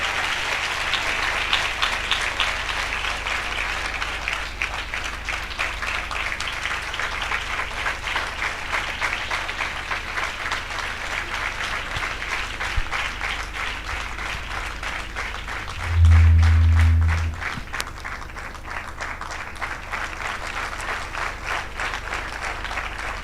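Audience applause fills a church ceremony hall in Udaipur, a steady broad clapping from a crowd that carries on throughout, with a brief low thump partway through.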